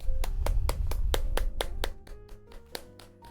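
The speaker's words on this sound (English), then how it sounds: "people clap" Rhythmic hand claps close by, about a dozen evenly spaced strikes that soften toward the end, with a low hum underneath.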